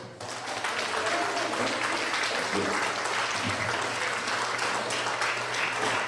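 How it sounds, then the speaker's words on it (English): Applause from the audience at a Father's Day community celebration honoring a retired deputy chief, loud and sustained from a full room throughout, with crowd murmur beneath. "Let's give him a nice round of applause"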